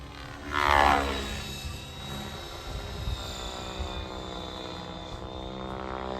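A radio-controlled model helicopter flies nearby with a steady high-pitched rotor and motor whine that swells briefly louder early on, then holds at an even level.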